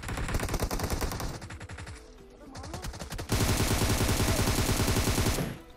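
Rapid automatic gunfire in the battle royale game BGMI, loud and close, with dense bursts that briefly thin out before a heavier sustained stream of shots.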